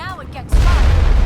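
In the video game Mass Effect, a deep, rumbling artillery boom rolls in during a tense battle. A voice speaks just before the blast.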